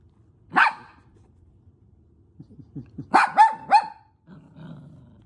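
A dog barks and growls during play: one sharp bark, a pause, then a run of low grumbling growls rising into a quick cluster of loud close barks, ending in a softer growl.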